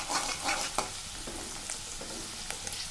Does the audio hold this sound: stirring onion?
yes